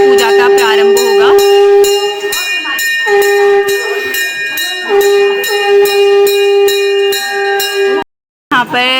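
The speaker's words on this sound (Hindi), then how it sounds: "शंख ध्वनि से यहाँ पर पूजा का प्रारंभ होगा।" A conch shell is blown to open a puja during Kumaoni Rishi Panchami and Birud Panchami rituals, giving loud, sustained, steady blasts with brief breaths between them over rapid ringing bells, before a short silence near the end.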